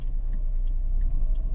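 A Dacia car warming up on ethanol idles with a steady low engine rumble, close and even, with faint light ticking on top.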